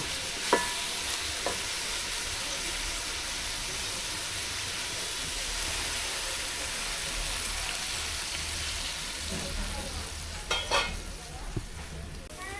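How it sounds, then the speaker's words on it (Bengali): Green banana peel and chickpeas simmer in a pan after a little water is added, giving a quiet, steady hiss and sizzle with a few faint clinks and stirring scrapes scattered through. "অল্প একটু পানি দিছি কলা খোসা ছোলা সিদ্ধ হওয়ার জন্য"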